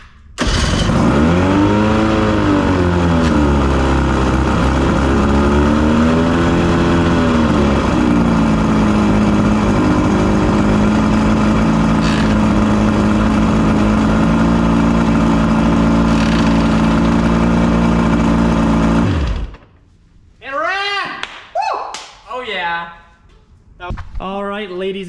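A badly run-down old boat engine runs loud and steady for about nineteen seconds, its pitch swelling and dipping, then cuts off abruptly, leaving people talking.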